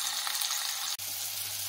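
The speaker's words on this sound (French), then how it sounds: "Dans une casserole avec du beurre, je fais revenir mes oignons et mes champignons grossièrement coupés." Coarsely chopped onions and mushrooms fry in butter in a saucepan, giving a steady close hiss of sizzling with a brief break midway, no talk.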